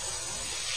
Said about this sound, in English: Now just start spraying the sand.